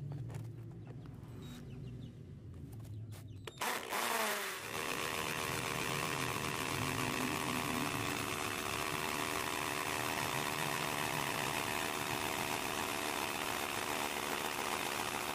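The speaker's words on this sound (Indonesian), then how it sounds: "yang terakhir saya akan coba bor drill atau bor beton ya" A loud, steady cordless drill drone drilling concrete starts after a brief stutter and runs continuously at low-speed mode, a harsh high-pitched whine grinding on without pause.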